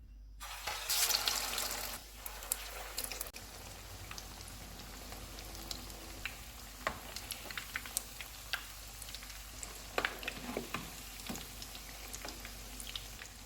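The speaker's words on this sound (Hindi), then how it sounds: "टिक्कियाँ दोनों साइडों से फ्राई हो गई हैं" Aloo gobi tikkis, dipped in egg, frying in hot oil on a low-to-medium flame, a steady sizzle with scattered sharp pops and crackles, louder at the start and then settling into a continuous hiss with intermittent spatters.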